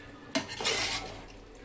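Chicken biryani masala is stirred in a pot, with a sharp scrape of a utensil against metal followed by a longer scraping stir, close and alone.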